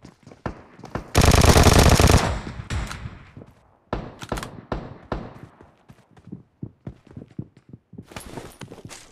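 Automatic gunfire from an M4 or Vector in a mobile shooter game: a loud, dense sustained burst, followed by scattered single shots and short clattering volleys.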